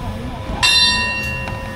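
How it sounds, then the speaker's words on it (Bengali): At Chachoengsao junction station in Thailand, a station bell is struck for a train's departure, ringing out clearly with a lingering tone and a couple of fainter follow-up strikes over busy platform noise. "ঘন্টা দিয়ে ট্রেন ছাড়লো।"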